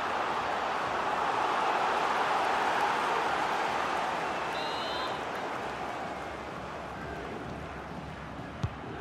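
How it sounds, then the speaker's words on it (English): Stadium crowd in the FIFA 23 club friendly between Junge Wikinger Ried and Mallorca, a steady, dense roar that swells loud and then eases slightly near the end, with a brief sharp knock just before it finishes. "Well, just listen to the crowd. They know this is a big chance to equalise."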